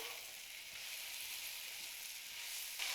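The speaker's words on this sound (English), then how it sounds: "And then we're gonna add the onions and the mushrooms. Mix everything well." Onions and mushrooms sizzle steadily in a hot pan with garlic while being stirred, a dense, continuous frying hiss heard up close with no talking.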